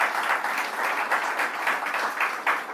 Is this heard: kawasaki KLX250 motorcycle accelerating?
no